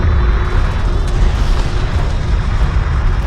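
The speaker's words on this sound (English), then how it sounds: "Enemy airstrike inbound." Enemy airstrike explosions in the Homeworld: Deserts of Kharak game, a loud continuous roar of heavy booms and rumbling blasts filling the whole stretch with no pause.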